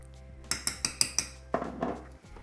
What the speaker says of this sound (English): Give them a little mix around.